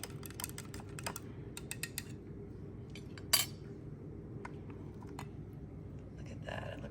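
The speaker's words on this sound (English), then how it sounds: "Watch what happens when you give it a little stir" A spoon stirring a glittery mystery liquid in a glass, quick bright clinks against the glass in bursts, with a louder chime partway through, soft and close.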